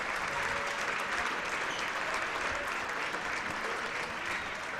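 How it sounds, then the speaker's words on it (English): A crowd applauds steadily as the senior players come out at a girls' high school basketball game in a gym, with dense clapping that stays even and continuous throughout. "they get a nice hand from the Durand crowd"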